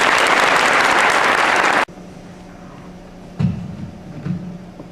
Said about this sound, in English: Please join me in a round of applause for our captain.